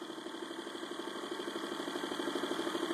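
An 11 inch magnetic motor runs and spins up, giving a steady whirring hum with a rapid pulsing beat that grows slightly louder and quicker, heard close and alone.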